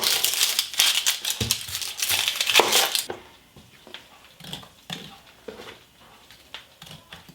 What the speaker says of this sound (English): Next I'm going to coarsely cut up one onion and add that.